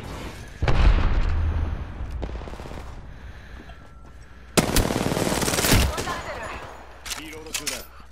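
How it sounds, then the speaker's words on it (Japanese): In Apex Legends gameplay, bursts of close automatic gunfire crack and rattle and a sharp grenade blast hits midway, with voices talking over the action. "気をつけろ、グレネードだ。"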